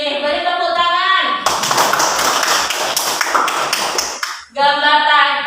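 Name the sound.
classroom clapping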